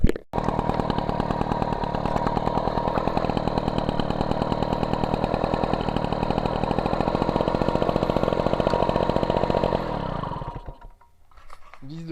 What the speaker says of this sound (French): le moteur il marche de mieux en mieux